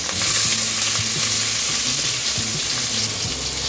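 Onion frying in a pan of hot oil with cumin seeds, ginger-garlic paste and curry leaves for shev bhaji, a steady loud sizzle with stirring and scraping throughout, no talk.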